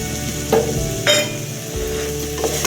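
Garam masala, chilli powder and coriander powder fry in a pan for salna, sizzling steadily while a spoon stirs with a few distinct scraping strokes.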